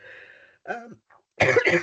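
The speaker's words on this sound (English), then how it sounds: "I'm coughing so much." A few separate coughs, the last two loud and close together, with a brief throat sound before them and no talking.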